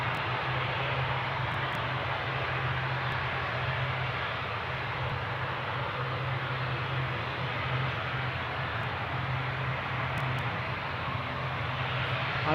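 A plane departing Newcastle airport sends a steady, broad jet roar with a low hum underneath, holding at an even loudness for the whole stretch, with no voices.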